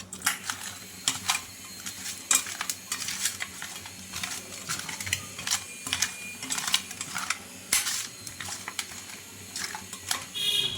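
Turmeric stirred into a fish curry in a pan, with repeated close scraping and clacking strokes in an irregular rhythm over a soft background hiss, no talk.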